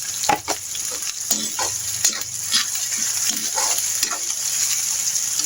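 Plenty of oil sizzles loudly in a pan for homemade chili oil, a dense, continuous crackle broken by sharp clinks and scrapes of stirring.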